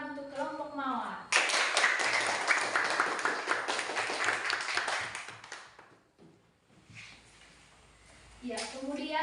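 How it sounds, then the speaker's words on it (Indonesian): A class of students applauds a student group, a dense burst of many hands clapping for several seconds, with a teacher's voice before and after. "beri tepuk tangan untuk kelompok mawar"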